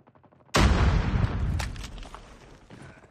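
Cordite rifle fire in a shooter game: after half a second of quiet ticking, a sudden loud burst of rapid automatic shots rings out, then decays over the next two seconds.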